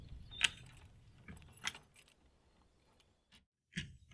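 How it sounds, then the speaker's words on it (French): Keys jangling and turning in the lock of a garden tool shed door, a few sharp metallic clinks and rattles separated by quiet pauses, close by and fairly faint. "se referme avec une clé."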